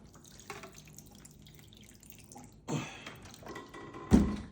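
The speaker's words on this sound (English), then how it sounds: "I just water until I see the water coming out of the bottom" Water trickles and drips out of the bottom of a freshly watered potted avocado plant, faint patters followed by two louder splashing bursts, close by and without speech.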